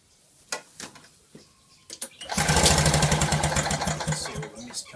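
Victa two-stroke lawn mower engine pulled over by hand after a few light knocks, turning over with a rapid, raspy chuffing that runs for a couple of seconds, close and moderately loud.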